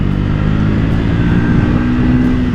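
A Triumph Speed 400 motorcycle engine drones steadily on a tight, twisty road, a continuous loud rumbling hum with wind rush and no break over a few seconds.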